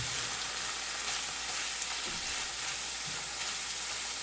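Ground meat sautés in a pan for tortang talong with giniling, producing a loud, steady sizzle and frying crackle up close, continuous throughout with no talking.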